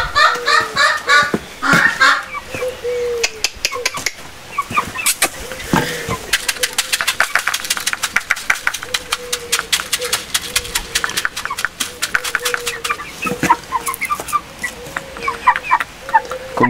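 Hens cluck and squawk loudly and repeatedly around young Faverolles and Marans chicks at feeding time. The rapid, busy calls are close by and continue throughout.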